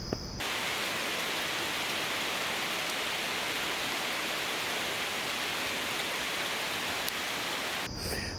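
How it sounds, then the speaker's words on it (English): Heavy rain pours down in Asheville in a dense, intense hiss that starts abruptly and holds loud and steady before cutting off near the end, with no voices. "yeah, that's the rain."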